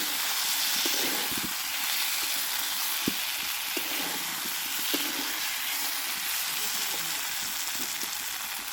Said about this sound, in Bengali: এটার মধ্যে আমি যে ডিমগুলো ভেজে রেখেছিলাম সেই ডিমগুলো দিয়ে দিলাম।